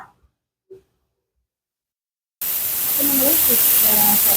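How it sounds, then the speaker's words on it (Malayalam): Pressure cooker letting off a sustained loud hiss of steam while cooking onions for a quick chicken curry, starting abruptly after near silence and continuing steadily. "നമ്മളെ ഉള്ളി നമ്മൾ കുക്കറിൽ ഇട്ടതിൻ്റെ രണ്ടാമത്തെ വിസിലാണ് വന്നുള്ളത്"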